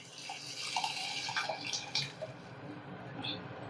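Water pours and splashes into a pot of boiled moong dal for a Telugu summer pulusu in a home kitchen, a steady close running stream with small drips, heard alone.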